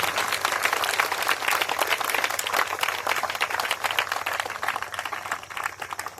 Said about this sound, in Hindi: यीशु मसीह की जोर से तालियां बजाएंगे प्रभु के लिए, जोर से जोर से जोर से जोर से जोर से।